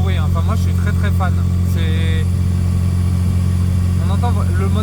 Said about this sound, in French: On entend le moteur, il a vraiment beaucoup de sonorités différentes.